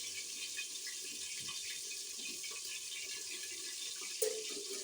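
Water from boiled potatoes being poured off into a sink, a steady soft hiss of running liquid with a brief splash near the end, fairly quiet, no talking.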